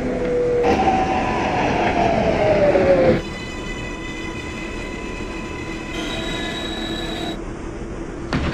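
R142 subway train running on a Manhattan-bound 6 local in the OpenBVE train simulator game, steady motor whine and rail rumble with rising pitch, then quieter running with tonal hums, continuous and close.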